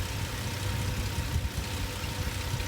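A 2004 Ford Explorer engine idles steadily with a low, even hum and faint mechanical ticking, heard alone at a modest level.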